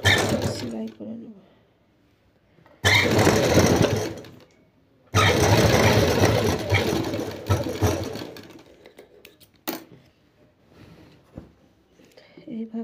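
A sewing machine stitches a folded strip along the round collar neck of an anarkali frock, running in a few loud bursts separated by pauses.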